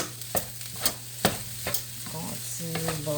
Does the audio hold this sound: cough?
no